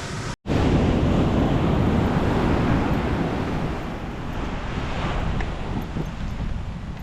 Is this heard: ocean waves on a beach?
yes